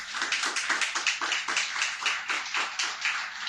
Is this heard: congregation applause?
yes